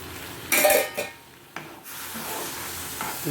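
Bread halwa made from fried bread is stirred as milk is mixed in: a loud wet scraping and rubbing of a spoon against the pan, a couple of short knocks, then a softer continuous sizzle and stir.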